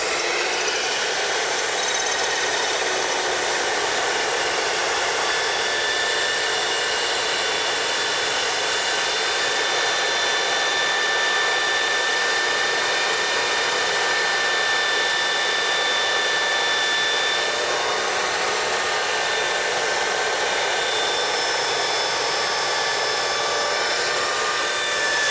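A metal-cutting band saw cuts through 1-inch square tube, producing a continuous high whining, hissing drone that holds steady and loud for the whole stretch, with no voices.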